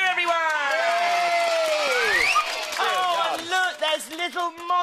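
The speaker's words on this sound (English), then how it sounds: "Big cheer, everyone." A children's TV studio audience cheering and whooping loudly, with excited kids' shouts and high squeals blending into a continuous crowd roar that fades into scattered calls.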